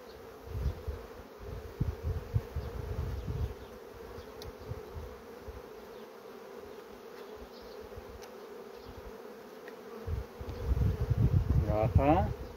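Honey bees buzz continuously around a hive in an apiary, a dense close hum with louder swells near the start and end, and a person speaks briefly.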